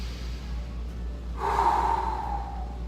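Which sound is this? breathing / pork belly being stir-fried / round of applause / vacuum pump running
breathing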